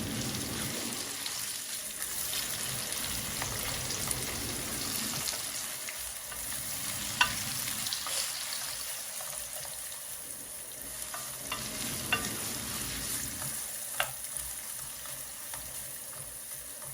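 Radish frying in a pan with green chilies for a Sylheti village dish, a steady close sizzle with scraping stir strokes and a few sharp clicks of the utensil, no talking.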